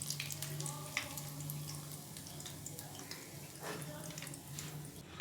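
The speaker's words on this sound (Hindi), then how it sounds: "अब हम बाकी बचे हुए बैंगन को भी जो है ना अच्छे से फ्राई कर लेंगे" Eggplant slices fry in hot oil with a faint, steady sizzle and scattered pops over a low background hum, running unbroken for about five seconds with no voice.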